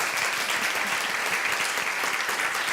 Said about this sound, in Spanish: Por favor, un gran aplauso para los chicos.